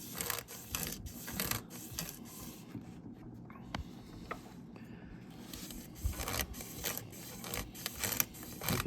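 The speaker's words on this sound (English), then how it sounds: "You can see how the webbing kind of grabs the wet, dry sandpaper and rotates it around." Wet/dry sandpaper wrapped in webbing rubs around the connecting rod journal of an Onan P220 engine crank still in the block, a faint, irregular scratchy scraping with occasional clicks, close and quiet, without speech.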